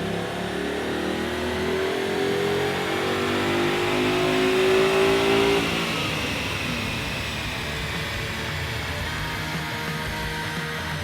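A 2015 Ford Mustang GT with a BBK cold air kit revs hard on a dyno, its engine climbing in a long, loud pull before easing off into a steady roar.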